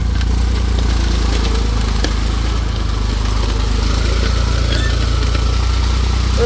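A tractor plowing a rubber plantation runs with a steady, close, low-pitched engine drone that continues unbroken throughout, with no talking.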